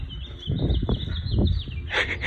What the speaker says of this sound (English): What a beautiful chirp.